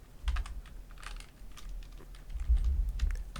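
Computer keyboard keys clatter in quick irregular bursts of close, crisp clicks over a low background hum, with brief pauses between runs of typing and no voices.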